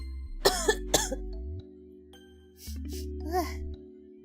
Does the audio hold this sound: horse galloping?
no